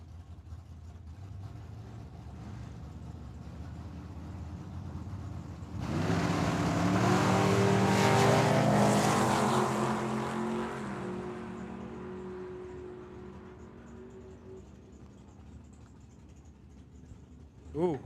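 Drag racing cars, a dragster and a roadster, launch at Tucson Dragway with a sudden loud engine roar that swells, holds for several seconds and fades as they pull away, with a commentator's voice over the track.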